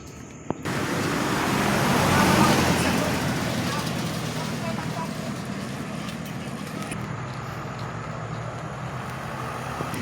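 Road traffic along Aguinaldo Highway, where the road is under construction, rolls past a moving jeep as a steady broadband rumble of engines and tyres that swells early and then holds. There is no talking.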